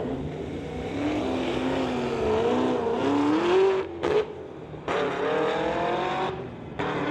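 Two street-legal drag racers, a 1986 Fox Body Mustang and a 2015 Chevy Camaro, roar hard at the strip, engines climbing in pitch through the gears with brief shift breaks, loud and close.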